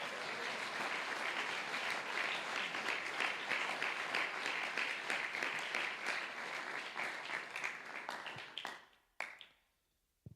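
A church congregation at a men's conference applauds loudly and continuously, dense clapping filling the room for about nine seconds before tapering off into a few scattered claps.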